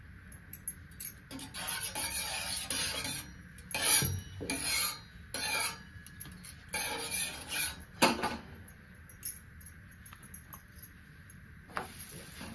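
Paratha stuffed with fresh pigeon pea (tur) pods sizzles on an oiled tava, a steady close hiss broken by scraping and rubbing bursts, with occasional clinks of utensils.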